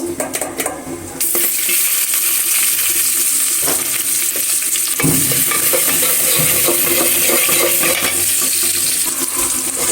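Chopped onion dropping into hot oil in a pot, a loud broadband sizzle that swells after a few seconds and holds steady, with occasional stirring clatter and no talk.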